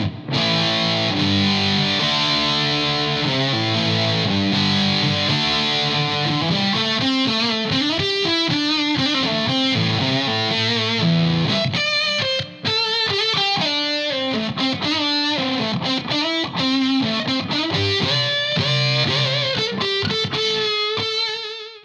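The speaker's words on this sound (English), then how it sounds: "which is a harmonic saturator, it's a fat sounding harmonic distortion." Electric guitar, a Telecaster, played through a Way Huge Fat Sandwich harmonic saturator pedal giving thick distortion, a run of saturated riffs and sustained notes, loud and continuous with no talking.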